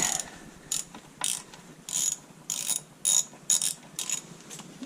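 Ratchet on a 10 mm socket loosening the ECM bolts on a 2002 DT466E engine: bursts of quick metallic clicking repeat in a steady rhythm with short pauses between strokes, close and clear, no voices.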